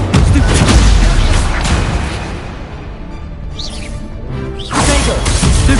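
Spell-combat blasts in Hogwarts Legacy: loud, dense booms and crashes that run almost continuously, dip briefly in the middle, then surge again toward the end.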